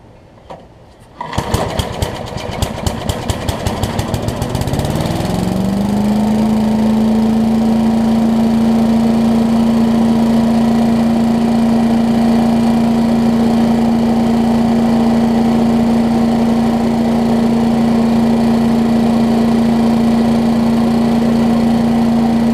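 An 8hp Briggs engine on a Giant Vac blower is cranked with a short rattling pull, catches after a few seconds and settles into a loud, steady, close drone that runs on without a break.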